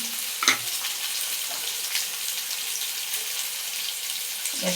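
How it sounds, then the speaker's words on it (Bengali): Ground spices such as turmeric sizzle and fry steadily in hot tempering oil for a vegetarian dish, with a brief louder crackle near the start and a constant close hiss throughout, no voices. "এবার একে একে মশলাগুলো ফোড়নে দিয়ে দেবো। দেখো দিয়ে দিলাম হলুদ,"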